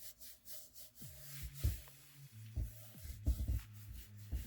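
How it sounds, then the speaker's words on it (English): Oil being rubbed by hand into a thrifted wooden piece during restoration, giving soft, close rubbing and shuffling strokes with a few low thumps, faint and unaccompanied by talk. "as I rub the oil in, I can feel the wood is just absorbing it"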